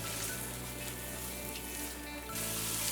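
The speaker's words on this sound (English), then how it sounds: "we're going to allow this to saute until it's tender" Vegetables seasoned with salt sauté in a hot pan for sweet potato dish, a steady close sizzle and crackle running throughout with no talking.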